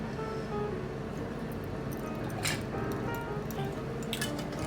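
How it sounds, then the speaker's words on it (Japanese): Gin is poured into a tall glass packed with ice, with small liquid trickles and clinks of ice over a steady background hum, close and quiet. "ここにまずジンを注いでいきます。"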